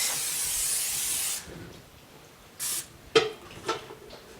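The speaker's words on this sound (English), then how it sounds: "give it a nice spray to coat the inside of the basket" A broadband hiss of cooking oil spray onto an air fryer basket for about a second and a half, followed by a few short, sharp clicks and knocks nearby.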